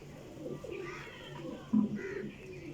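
A Persian breeder pair of pigeons coos softly in a loft, with low, rounded calls repeating through the clip and one louder burst near the end.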